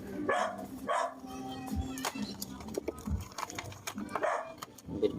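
A dog barks several times in short bursts at moderate distance, heard while tools clink and someone works on a car's check engine light using an ELM327 OBDII diagnostic scanner.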